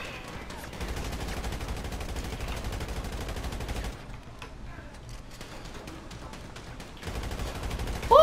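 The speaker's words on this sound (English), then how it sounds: "We're exchanging some shots here." A GTA 5 roleplay firefight, with steady rapid gunshots exchanged at moderate loudness, a quieter gap partway through, then firing picks up again near the end.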